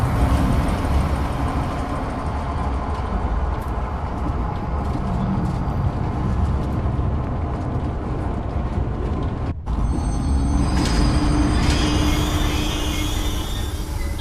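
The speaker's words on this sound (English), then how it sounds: "select the giraffe enclosure on the control panel and start the train" Train in the video game Zoochosis starting and running, a loud, continuous rumbling and clattering roll that holds steady throughout, with a brief dropout and then high squealing tones near the end; no talking.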